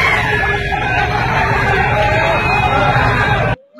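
Loud, dense crowd babble and shouting at a rural bullock cart race as spectators celebrate the winner, a steady roar that cuts off abruptly near the end.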